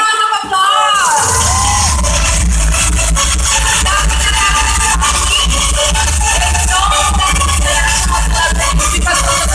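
A large audience cheers, whoops and claps loudly and continuously at a fan event in Manila, a dense roar of voices filling the whole stretch.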